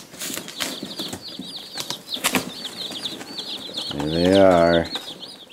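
About sixty Cornish Cross chicks in a box give a continuous chorus of high peeping with scuffling and rustling. A person speaks briefly, and a louder low voice-like drone comes in near the end.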